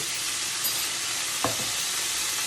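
Potatoes fry in duck fat with a constant dense sizzle, loud and close, marked halfway by a single short scrape or clunk against the pan.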